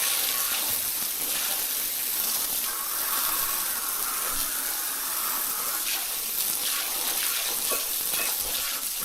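Water runs steadily while car parts are washed, a constant close hiss and splash with faint clinks of handled metal mixed in, with no talking.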